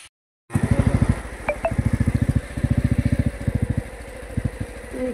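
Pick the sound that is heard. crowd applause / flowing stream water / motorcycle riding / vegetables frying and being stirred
motorcycle riding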